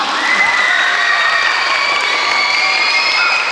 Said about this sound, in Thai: ใครเห็นด้วยปรบมือดังๆหน่อยค่ะ